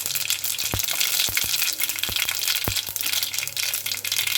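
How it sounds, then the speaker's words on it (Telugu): Mustard and cumin seeds sizzle in hot oil, a dense frying hiss punctuated by several sharp, irregular pops and crackles close at hand, with no one talking. "కొద్దిగానే ఆవాలు వేస్తున్నా, అలాగే కొంచెం జీలకర్ర"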